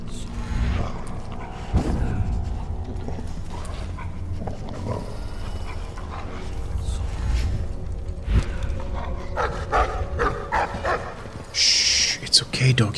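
A dog in the stealth game Dishonored barks and whimpers in short yips amid ambient game sounds, with someone talking over parts of it.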